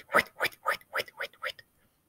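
A voice imitates a rotating lawn sprinkler with seven quick, evenly spaced whispered bursts, each a short breathy puff, ending in silence.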